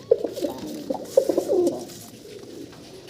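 Pigeons cooing close by in a cage, several soft throaty coos in quick succession, then fading to quieter murmuring.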